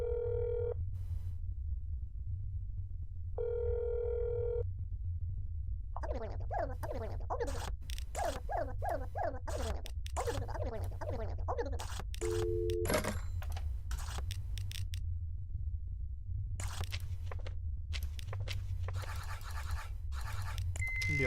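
Ringing telephone tones from an outgoing call in the horror game That's Not My Neighbor: two steady beeping bursts, then clicky rustling and a short lower tone over a constant low hum, with no talking.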